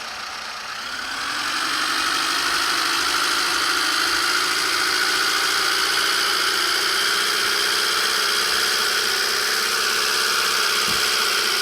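A motorcycle engine runs close by with a steady, loud droning hum. It swells slightly in the first second, then holds an even, vibrating idle throughout.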